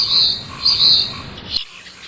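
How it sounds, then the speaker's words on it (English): Phoebe calling from apple trees on a farm in early summer: two or three bright, raspy chirped phrases, fairly close, with a soft outdoor background and no talking. "From the apple trees, the phoebe bird."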